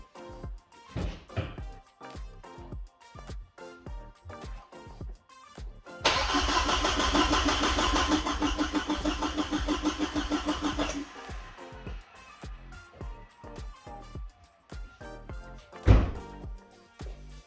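A car engine cranks during a cylinder compression test, with rapid rhythmic starter churning that surges loudly for several seconds in the middle, framed by quieter clicks and knocks before and after, with no talk.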